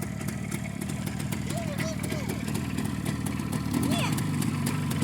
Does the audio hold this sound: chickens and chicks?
no